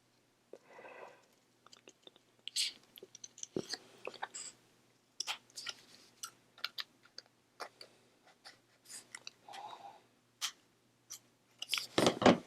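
Scissors trim the bottom of a paper snowman cut-out for a handmade card, giving a string of short, crisp, close snips with small pauses between cuts and a few soft paper rustles.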